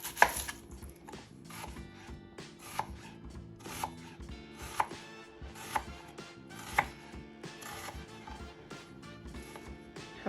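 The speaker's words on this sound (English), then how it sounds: "I'll start by chopping my onion." Repeated knife chops through an onion on a cutting board, sharp close taps at an uneven pace with quieter slicing sounds in between.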